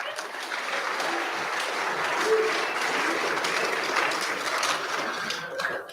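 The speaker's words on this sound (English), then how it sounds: "Round of applause for Reese Osiki." Steady applause from an audience at a sports awards event, a dense wash of hand clapping sustained for several seconds and fading abruptly at the end.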